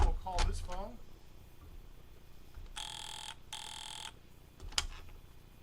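Military field telephone ringing, two loud bursts of harsh electric bell ringing, each about half a second long with a short gap between them, following a brief spoken exchange.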